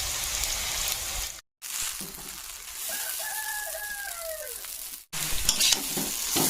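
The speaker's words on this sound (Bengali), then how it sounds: "দিয়েছি একটু পেঁয়াজ তেলে" Onion frying in mustard oil for chowmein, a steady broadband sizzle with stirring, a brief silent gap and a rooster crowing faintly in the background partway through.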